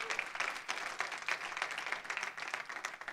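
Church congregation applauding during a Spanish-language sermon, a moderately quiet, steady patter of many hands clapping with uneven rhythmic pulses.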